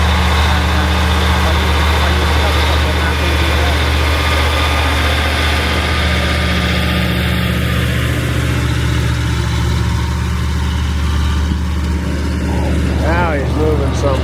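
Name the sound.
Ford FW-30 tractor engine pulling a mole plow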